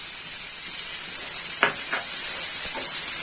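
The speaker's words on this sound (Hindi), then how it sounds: "इसे मैं 1 मिनट तक हाई फ्लेम पर ही हल्का सा सौटे करूंगी।" Paneer cubes sauté in a pan over a high flame, giving a steady loud sizzle with a couple of brief stirring scrapes.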